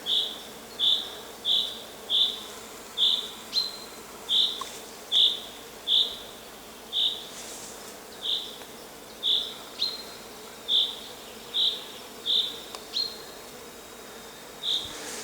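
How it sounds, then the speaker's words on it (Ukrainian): Honey bees buzz in repeated short bursts, each a second or less, rising and fading in a steady rhythm over a quiet outdoor background, flying past close by. "живі бджоли"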